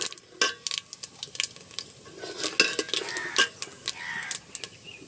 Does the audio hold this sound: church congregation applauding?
no